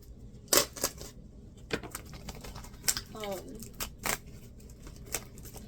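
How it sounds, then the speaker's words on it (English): Scissors snip through paper or card during an art-making session, a few sharp, separate cuts at irregular intervals, close by, with soft handling rustles between them. "Scissors."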